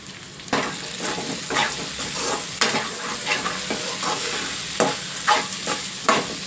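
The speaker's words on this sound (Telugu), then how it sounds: "కాసేపు ఈ ఉల్లిపాయలతో పాటు మనం ములక్కాయలను కూడా మగ్గించేసుకోవాలి" Drumstick pods and onions frying in a pan, steady sizzling broken by repeated scraping stirs at an irregular rhythm, close and fairly loud.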